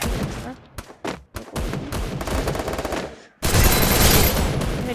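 Rapid gunfire from the Free Fire Clash Squad mobile game rattles in loud bursts, with short quiet gaps between volleys and then one sustained, dense stretch of shooting at the end.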